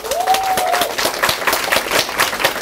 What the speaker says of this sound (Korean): 우리 모두 박수 한번 칠까요?